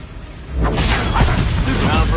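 The Incendio fire spell cast in Hogwarts Legacy, heard as a loud whooshing burst of flame with a rumbling boom that swells and holds through the rest of the moment.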